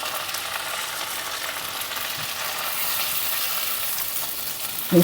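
Ground spices mixed into tomato paste fry in a pan for a fish and cauliflower curry, giving a steady soft sizzle that runs the whole time, close and even, with a brief clatter at the very end.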